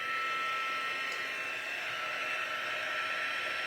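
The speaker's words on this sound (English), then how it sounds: "now I have our heat tool. It's going to get a little bit loud." A heat tool melting embossing powder on a handmade card blows a steady, loud whooshing hum with no break, close to the mic.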